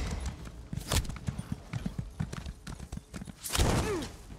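Horse hooves clip-clopping at a gallop in the video game Elder Scrolls Online, a dense run of thuds ending in a loud whinny as the horse dies, with no speech.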